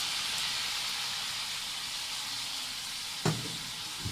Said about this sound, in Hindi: लहसुन अदरक के पेस्ट के साथ हम इसको अच्छे से हम भूनेंगे